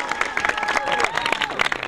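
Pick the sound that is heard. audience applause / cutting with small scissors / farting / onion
audience applause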